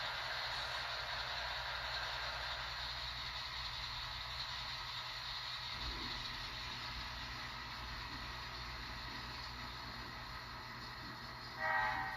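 An HO scale model train runs steadily along its track with a continuous rumbling hum and a faint whine, a short clatter near the end.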